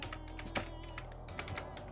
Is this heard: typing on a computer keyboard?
yes